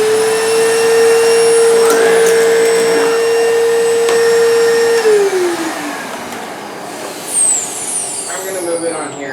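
A Powr-Flite vacuum cleaner with a clogged brush roll runs loud and close, a steady whining motor tone that drops in pitch partway through, followed by rougher airflow noise.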